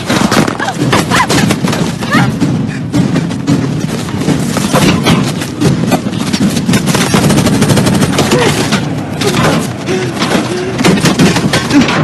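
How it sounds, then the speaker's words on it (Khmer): Rapid bursts of game gunfire crackle repeatedly over a busy mix of effects and raised voices. "វាកំពុងតែបាញ់ពួកយើងព្រាវហើយមែនទេ"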